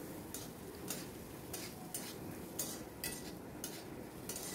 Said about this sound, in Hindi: अब इन दोनों को भी हमें मिक्स करके थोड़ी देर तक भून लेना है